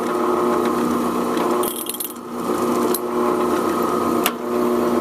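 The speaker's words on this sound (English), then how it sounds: "That drill bit is wobbling in there pretty good." A power drill grinds steadily through wood with a wobbling drill bit, its motor droning with brief dips and a couple of sharp clicks, close and fairly loud.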